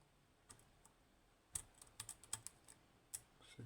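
An Assa 600 lock being picked, with a scatter of small sharp clicks spaced irregularly over near-silence, close and fairly quiet.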